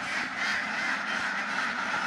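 Ducks quack in a dense, continuous noisy chorus, many birds calling at once close by with no pauses and no voices.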